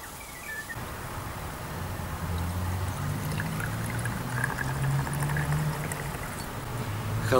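Cold oat distillate (oat moonshine) poured in a steady, continuous trickle that grows slightly fuller toward the end, close and clear with a faint high background hiss.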